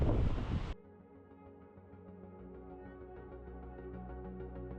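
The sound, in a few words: strong wind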